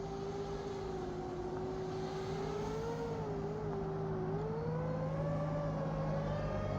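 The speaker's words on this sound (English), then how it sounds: "I was waiting for the car to pass." A car passes along a road, a steady engine drone whose pitch rises and dips slightly as it goes by, loud and close throughout with no voices.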